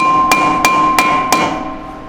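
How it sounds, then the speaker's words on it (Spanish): Rubber mallet striking a seized, rusted brake disc on a Subaru BRZ, four evenly spaced sharp ringing knocks with a bright metallic tone that hangs between blows. "Intentamos con el martillito de goma."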